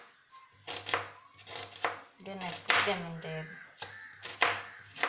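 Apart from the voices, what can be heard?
chopping onions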